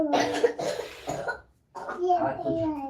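A child coughs several times in quick bursts, close and loud, then pauses briefly before more harsh coughing and throat sounds.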